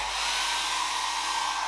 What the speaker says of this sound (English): So I'm just going to go over it with a dryer now.